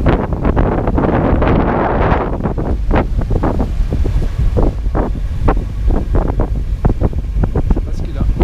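Strong wind buffets a sailboat crossing a channel in roughly 24–25 knots, with a well-formed swell; loud, steady wind roar mixed with rushing water and repeated thuds and slaps from the hull and rigging, continuous throughout.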